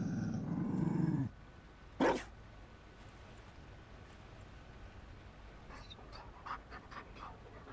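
A Mabari war dog in a fantasy video game gives a low rumbling growl and pant up close, followed by a brief sharp sound and quieter scattered clicks over a faint ambient hiss.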